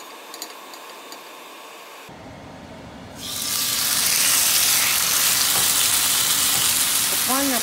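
Yogurt-marinated chicken legs hit hot oil in a grill pan. A few quiet clanks come first, then a loud, steady sizzle of frying rises and holds close up.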